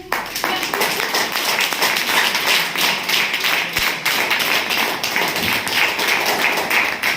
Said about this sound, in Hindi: और एक बार जोरदार तालियां आपको